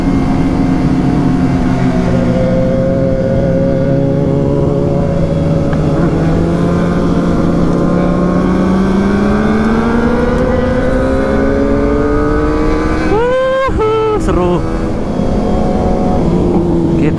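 Several sport motorcycles, including a ZX25R and a ZX636, speeding and revving together on a Sunday morning group ride, a steady engine drone rising and falling in pitch, with a sharp rev burst near the end.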